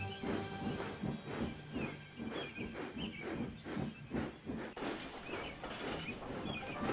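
A steam locomotive on an animated railway series hisses steadily as it lets off steam, a broad loud rush with rhythmic chuffing pulses running through it and no talking.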